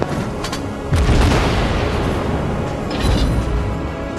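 Naval gunfire and explosions in the World of Warships Blitz video game: deep booming blasts and heavy rumbling impacts follow one another in a dense, loud battle mix with no talking.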